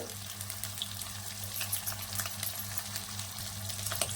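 Cumin, green masala paste and asafoetida fry gently in oil, a soft continuous crackle with light stirring clicks over a low steady hum. Nobody talks.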